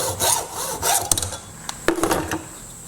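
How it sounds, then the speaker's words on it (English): A hacksaw cuts through a metal part clamped in a bench vise, guided by a circular cut, while building a tow-behind yard sprayer. Close, rhythmic back-and-forth rasping strokes with no talk. "using that circular cut as a guide for my hacksaw, I'm just going to go ahead now and cut"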